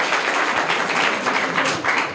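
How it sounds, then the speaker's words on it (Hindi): Audience clapping for the third-place winner of a children's quiz, a steady patter of many hands at moderate loudness lasting a couple of seconds. "इनके लिए जोरदार ताली एक बार हो जाए"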